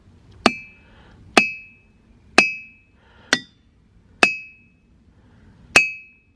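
Six sharp metallic strikes of a hammer on rock, each followed by a clear high ringing tone that lingers, spaced about a second apart.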